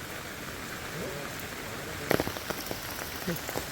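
Light drizzle pattering on a rainy trek route to Devkund waterfall in Maharashtra, a soft, steady hiss with a few sharper drops landing close by.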